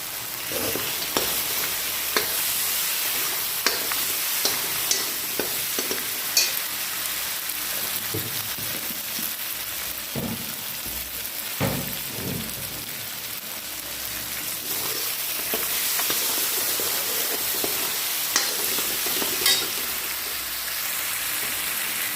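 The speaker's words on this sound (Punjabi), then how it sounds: "ਹੁਣ ਆਪਾਂ ਇਹਨਾਂ ਨੂੰ ਦੇ ਦੇਗਾ ਪਕੌੜਿਆਂ ਨੂੰ ਮਸਾਲੇ ਵਿੱਚ" Pakoras stirred into a sizzling masala in a pan for a Punjabi kadhi dish, with a steady broadband fry hiss broken by repeated scraping and clinking stir strokes throughout, close and fairly loud, with no voices.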